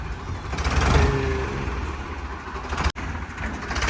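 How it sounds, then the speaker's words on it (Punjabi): A Ford 3600 tractor engine running at a steady idle, a low, continuous rumble close by with a brief cut-out near the end. "ਲੋ ਬਾਈ ਚੱਲਿਆ ਟਰੈਕਟਰ"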